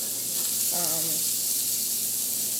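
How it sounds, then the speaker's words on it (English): Sausages browning in a pan for jambalaya give a loud, steady sizzle of frying that fills the whole stretch, close by, with a brief murmured voice partway through. "Sausages are browning pretty nice."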